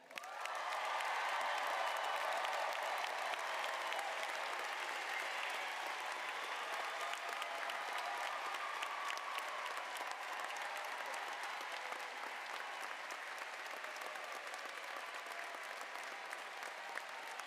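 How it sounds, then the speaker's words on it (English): Large commencement crowd for a graduating journalism class gives sustained loud applause that fills the hall, dense and even throughout and slowly easing toward the end. "Now let's hear the loudest round of applause for one of the biggest class the SOJC has ever had."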